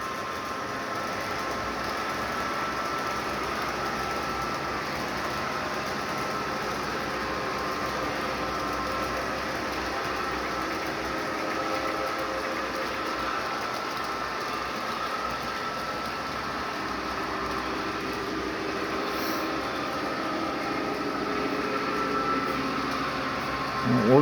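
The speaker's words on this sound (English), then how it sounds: "The ore train is now coming into Cranesville." A model ore train runs along a home model railroad layout as a faint, steady mechanical hum and soft track rumble, continuous and low in level.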